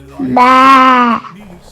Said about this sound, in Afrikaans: Kyk, hier staan baie skape rond.